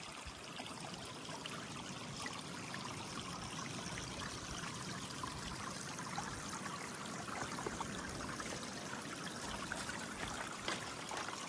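Water trickling and streaming steadily from a trailside spring or stream on the Appalachian Trail while bottles are topped off, a continuous close, moderately quiet wash with no talking.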